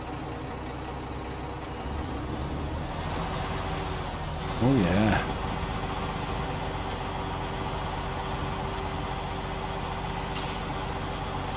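A truck engine in the video game Snowrunner starts with a brief rising crank, then settles into a steady low idle. A voice speaks briefly.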